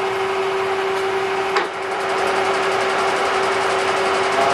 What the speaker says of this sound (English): That's the 3-phase ghost motor, slave motor, or whatever they call it.